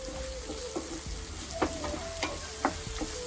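Taro root and onion roast in a pan with a soft continuous sizzle, punctuated by occasional stirring scrapes and light taps of a utensil, fairly quiet and close.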